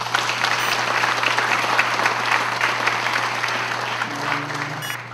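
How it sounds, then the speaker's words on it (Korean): A church congregation applauds at a national ministers' summer seminar opening worship service, dense sustained clapping filling the hall, loud and steady throughout with no talk over it. "우리 박수 한번 부탁합니다"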